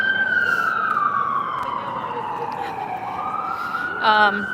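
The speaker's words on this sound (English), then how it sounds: "just wait while we pass these sirens" A loud, close emergency siren in downtown Toronto wails and sweeps downward then rises again above road noise, and a short voice-like sound cuts in near the end.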